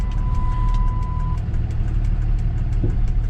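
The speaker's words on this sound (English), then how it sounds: "I'm hearing a massive boost leak, and I imagine that's due to that intercooler that's got a big gash in the bottom of it" A 2002-2009 Dodge truck with a Cummins diesel idles loudly and steadily up close, with a boost leak from an intercooler that has a large gash in its bottom. A faint whining tone runs over the rumble early on.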